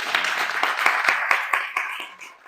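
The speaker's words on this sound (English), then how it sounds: "Big round of applause for Vishal ji, please." Applause from an audience at a community food bank event, a steady patter of many hands clapping close by for a couple of seconds before tapering off.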